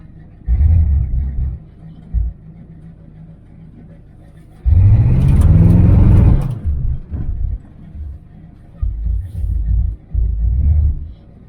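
Car engine fitted with knock-off Rochester Quadrajet carburetors: low rumbling idle blips, then a loud roaring acceleration of a few seconds, followed by further short throttle bursts, close up.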